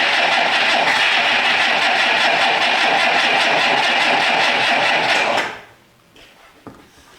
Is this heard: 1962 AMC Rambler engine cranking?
yes